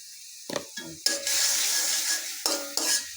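Bottle gourd greens with salt and turmeric being stirred and sautéed in a pan: a steady sizzle broken by sharp scrapes and clinks of a spatula against the metal, close and fairly loud, with no talking.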